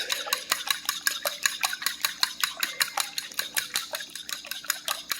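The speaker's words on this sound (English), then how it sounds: "Okay, so I got me a monster fork. It doesn't look that big, but it is. I'm going to beat up the eggs." Five large eggs are beaten briskly with a large fork in a bowl, a steady run of quick, close clicking strokes at an even rhythm with no voices.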